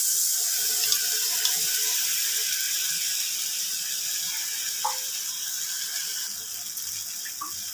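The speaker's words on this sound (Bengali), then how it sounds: "মিক্সির কন্টেনারটা ধুয়ে একটু জল দিয়ে দিলাম।" Tap water runs steadily and loudly into a mixer grinder jar being rinsed in a kitchen sink, a continuous hissing splash with a few faint clinks of the container.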